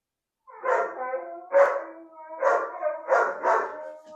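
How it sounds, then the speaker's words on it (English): A dog barks at landscapers working outside, five loud, close outbursts of barking in an irregular rhythm over about four seconds, with no voices. "So we tolerate the doggy outbursts."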